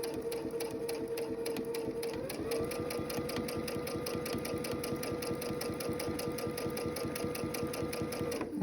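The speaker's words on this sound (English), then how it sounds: "So I'm going to start sewing." A sewing machine stitches fabric for quilting half square triangles, a close, steady mechanical chatter of fast repeating needle strokes with a hum running underneath, continuous throughout.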